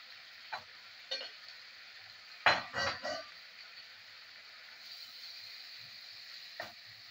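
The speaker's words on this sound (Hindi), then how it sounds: "इस स्टेज पे मैं इसमें दाल डाल दूंगी और इसे भी थोड़ा सा भून लूंगी।" A soft, steady sizzle of lentils frying in ghee in a pan, with a few louder stirring scrapes and clatters in the middle.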